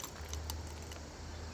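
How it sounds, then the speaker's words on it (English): A ring of keys for an old Chevy jangles close by in a short, bright metallic rattle over a low steady hum, with no speech. "the keys that I have"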